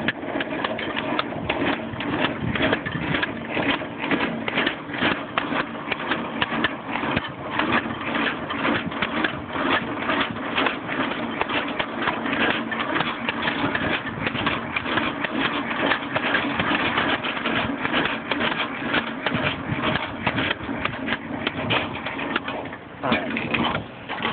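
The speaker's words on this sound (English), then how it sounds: "Now I'm going to crank the handle down, and you can see, watch the landing gear." A semi-trailer's landing gear is cranked down by hand, giving a steady, continuous rapid mechanical whirring and clicking that runs the whole time, loud and close, with a brief dip near the end.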